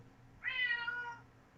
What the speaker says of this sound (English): My cat is now meowing at me too.